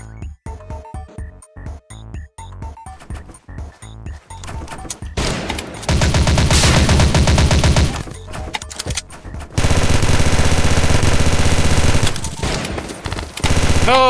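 Video game gunfire in a round of shooting play: scattered single shots at first, then long sustained bursts of rapid automatic fire, loud and close, with no talking.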